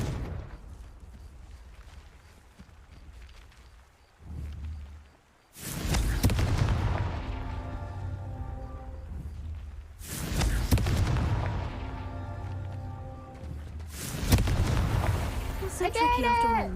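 Blasting-spell explosions in Hogwarts Legacy, several loud, booming bursts a few seconds apart, each a sharp crack followed by a rumbling, ringing decay, mixed with game music and sound effects.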